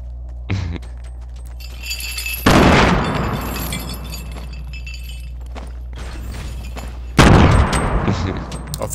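Two heavy, loud blasts from grenades going off in the Fortnite battle royale game, each followed by a ringing decay, with smaller sharp bursts of gunfire scattered between them.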